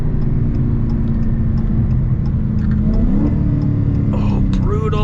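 A supercharged V8 engine in a Dodge Challenger Hellcat rumbles loudly and steadily, then revs up with a rising roar near the end, heard close by.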